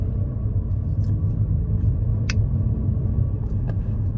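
Steady low rumble of a car driving through midday lunchtime traffic, heard from inside, with a few faint brief clicks and ticks over the continuous engine and road noise.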